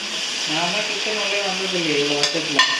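Biryani masala sizzles and fries in a pan as it is sautéed, a close, steady hiss with a few stirring scrapes and clinks near the end.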